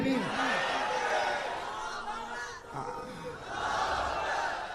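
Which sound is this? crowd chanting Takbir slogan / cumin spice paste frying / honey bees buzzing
crowd chanting Takbir slogan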